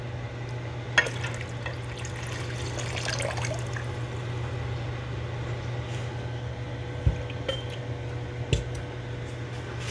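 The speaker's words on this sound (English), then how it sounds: "Ladle that in there." Hot pineapple-lemon marmalade ladled into warm glass jars: soft liquid pouring over a steady low hum, broken by a few sharp glass clinks.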